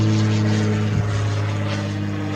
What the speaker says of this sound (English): airplane up above.